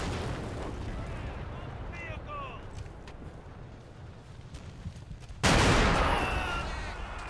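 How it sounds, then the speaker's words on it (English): Gunfire and artillery crackle and rumble through a World War II Normandy battle in the Combat Mission strategy game, a steady dense barrage under voices, then a much louder close blast about two-thirds of the way through that lingers. "They're shooting at something."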